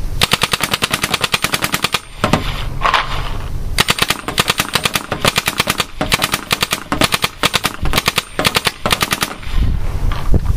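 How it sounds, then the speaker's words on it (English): Spyder E-MR5 paintball marker firing full auto in short bursts, a loud, close, rapid rattle of shots broken by brief pauses between strings. "Full auto, short controlled bursts."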